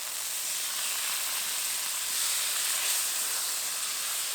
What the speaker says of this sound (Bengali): মশলা থেকে একটু তেল ছাড়া পর্যন্ত ভালো করে কষিয়ে নেব